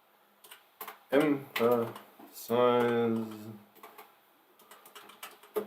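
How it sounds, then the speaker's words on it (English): Someone types on a computer keyboard during a writing livestream, producing scattered light clicks. A person talks loudly over part of the typing. "I'm not typing very well today."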